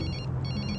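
A telephone rings in a steady, bright electronic tone, heard briefly and fairly loud with no one talking.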